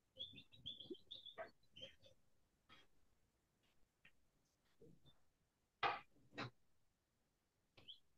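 Small birds chirp and tweet inside a backyard aviary, with short clustered calls at the start and scattered sharper chirps later, some loud and close, others faint, amid soft rustling and breathing.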